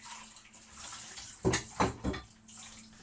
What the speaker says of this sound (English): So let's chuck that in the cold water.